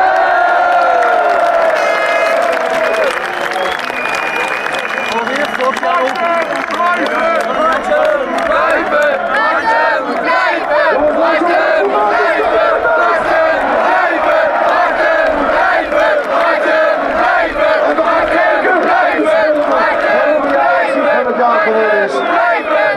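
Ajax supporters fill a stadium in a big, sustained roar of cheering, chanting and clapping for the player of the year during a match against FC Twente, with shouts and voices rising throughout.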